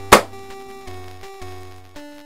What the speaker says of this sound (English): That is the sound of two strategy guides clapping.